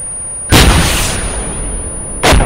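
Two booming tank cannon shots in a military video game, each a sharp, loud blast with a long rumbling decay, spaced about two seconds apart.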